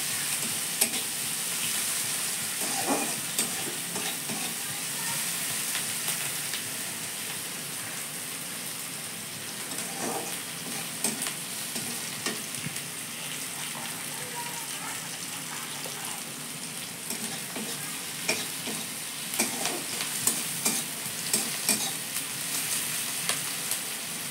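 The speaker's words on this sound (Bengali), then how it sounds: "এবার একটু পেঁয়াজটা ভাজা ভাজা করে নিচ্ছি।" Onions sizzle steadily in hot oil for the whole stretch, with frequent scraping and ticking as they are stirred around the pan.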